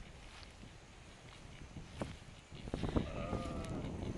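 Sheep bleating outdoors on a farm, several clear calls near the end over a steady background of rustling and faint footsteps.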